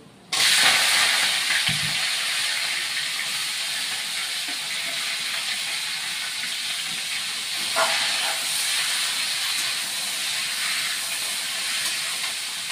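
Malabar spinach from the garden hits a hot pan for a stem curry, raising a loud steady sizzle and hiss that holds for several seconds with a brief surge partway through.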